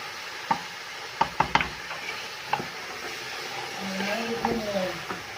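A potato, pea and carrot mix is stirred in a hot frying pan, with sharp scraping knocks of the spoon against the pan over a soft steady sizzle, close and clear, with a little speech nearby.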